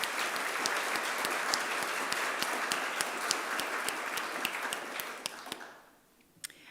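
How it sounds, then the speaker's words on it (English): A ceremony audience at the South Australian Literary Awards gives Karen Wilde a sustained round of applause, dense steady clapping with a few sharper claps that fades away near the end. "Please join me in giving Karen Wilde a round of applause."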